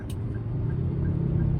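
A Toyota Avanza converted from manual to an automatic-clutch setup pulls away, its engine a low steady rumble that builds slightly in revs, close and fairly loud, with no voices.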